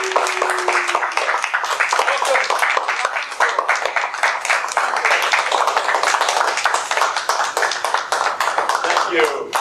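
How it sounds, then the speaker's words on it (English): Audience at a Toastmasters club meeting giving a round of applause after a new member's installation, a sparse, distinct clapping of a small group, steady and close for about ten seconds. "Let's give her a round of applause."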